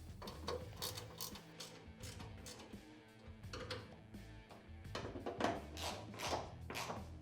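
A ratchet wrench clicks as it tightens the door striker on a Polaris RZR UTV with Tusk Barrier Pro Fit doors. Quick bursts of close ratcheting repeat in several strokes.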